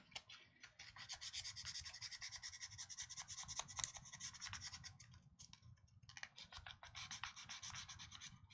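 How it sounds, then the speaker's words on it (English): Fine emery paper rubs against a part of an original Game Boy, a close, faint scratchy sanding in quick back-and-forth strokes with a short pause midway. "That's some fine emery paper."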